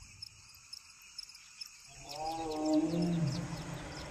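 A lion roars at night in Rwanda, a deep grunting roar rising and fading over about two seconds, after a quiet stretch filled with steady chirping crickets that continue underneath.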